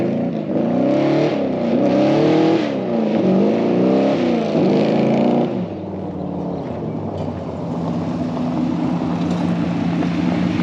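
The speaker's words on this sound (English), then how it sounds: "I'm gonna stand down the road and watch him drive by, because that'll probably be cool" A 1955 Chevy Gasser on a test drive, its engine loud and droning with rising and falling revs as it passes, then easing to a lower steady rumble.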